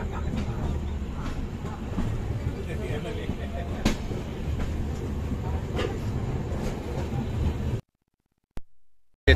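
The Panvel-Nanded Express pulls into Daund station with a steady rumble of rolling stock and occasional clanks, under a crowd's chatter, before the sound cuts off.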